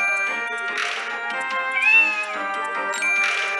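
A cartoon cat yowls in a pirate-themed Gameloft mobile game of mice versus cats, a few drawn-out bright meows over a steady chiming musical background, loud and close.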